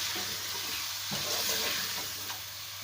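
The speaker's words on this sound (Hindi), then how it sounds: "इसको फिर हम भूनेंगे ताकि टमाटर जो है वो थोड़े से नरम हो जाएं" Spices and tomatoes fry in a pan with a dense, steady hiss, and stirring scrapes with soft thuds now and then, close up and continuous, with no voices.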